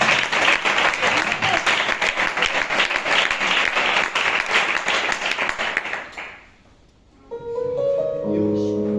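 Church congregation applauding at a sermon on Moses, a dense, sustained burst of many hands clapping that fades out after about six seconds, followed by soft keyboard or organ tones.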